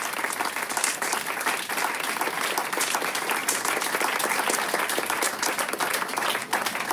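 Sustained applause from a large audience, dense and steady throughout with no break, loud and close with no voices rising above it.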